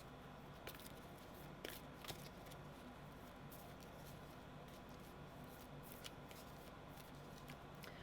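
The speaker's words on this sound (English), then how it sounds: "let me just shuffle these for you." A deck of cards is shuffled steadily at close range, a soft continuous riffling and rustling with a few sharper snaps.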